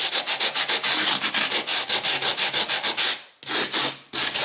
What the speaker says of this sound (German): Ich nehme ein großes Schleifpapier, wickle das um meinen Korkzapfen und schleife jetzt da mal eine Runde.